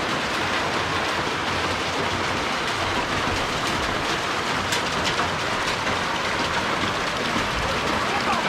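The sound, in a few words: rain falling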